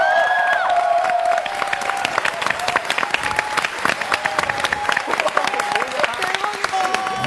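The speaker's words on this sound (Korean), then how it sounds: "제 아름다운 댄서들에게 박수 주시기 바랍니다." Audience at a magic show in Japan applauding the dancers, a burst of clapping and cheering under musical tones and a host's voice, thinning into sharper, scattered claps as it goes on.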